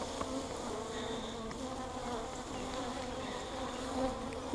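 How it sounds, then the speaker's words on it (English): Honey bees swarming around an open beehive during a hive inspection, a close, continuous buzzing drone with individual bees passing near and away, no talk. "There's only 100 bees attacking my face right now."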